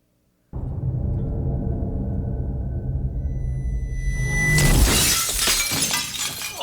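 A large piece of glass shatters in a dramatic TV scene, a sudden bright crash with scattering fragments after several seconds of low, tense musical drone.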